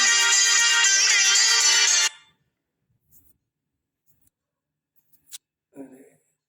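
A mobile phone ringtone plays loudly for about two seconds of bright, repeating electronic melody, then cuts off, leaving near silence with a few faint clicks and a brief voice murmur.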